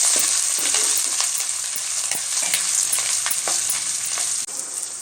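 Garlic and ginger frying in a pan until golden: a loud, dense, continuous sizzle up close, with regular light scrapes and taps from stirring. No speech.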